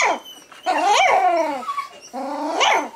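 A Goldendoodle puppy, a female from a litter, whines and yelps in drawn-out, rising and falling cries, loud and close, with short pauses between the calls.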